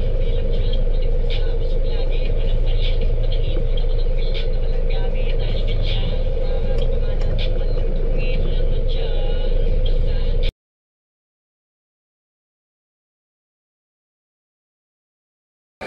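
Steady low road rumble from a car driving through evening city traffic near Double Dragon Tower, with engine and passing-vehicle noise throughout for about ten seconds before cutting to silence.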